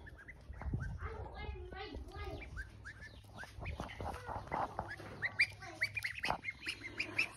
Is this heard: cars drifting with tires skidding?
no